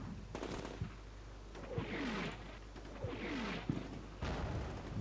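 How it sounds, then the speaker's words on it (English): Mortar barrage in the wargame Combat Mission: Shock Force 2, with repeated booming impacts and rumbling blasts over a constant low drone, several shells landing in quick succession at mid distance with brief whistling sweeps between them. "Mortars are still coming down."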